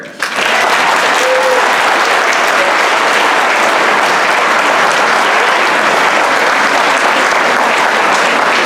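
Sustained audience applause for students at an 8th grade moving-up ceremony, starting abruptly and holding steady and loud, with faint voices beneath the clapping.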